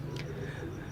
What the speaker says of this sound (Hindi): आगा साहब के कबूतर भी दिखाए